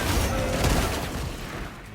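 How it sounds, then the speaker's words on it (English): A grenade blast in Helldivers 2 lands as a loud, close boom with rumbling low-end debris that slowly fades over a couple of seconds. "Throwing grenade."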